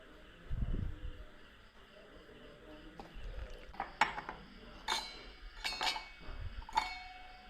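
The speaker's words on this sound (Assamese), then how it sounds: "এতিয়া মই ইয়াক মিক্স কৰি ল'ম ভালদৰে ফেটিব" Cake batter for a glass-and-cup cake made without baking soda is beaten in a bowl, giving sporadic sharp clinks of a utensil against the bowl over low thumps and a faint room hum.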